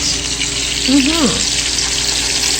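Hamburger patties frying in peanut oil in a pan, a steady broad sizzle throughout with a short whistling tone partway through.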